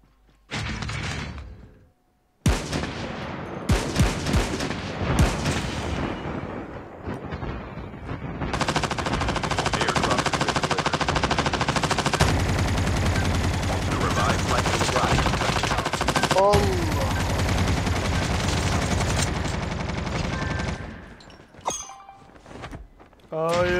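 Automatic gunfire rattles in long, dense bursts during an online shooter match, with a brief lull near the start and sustained firing that nearly fills the stretch, while players' voices chatter over the din.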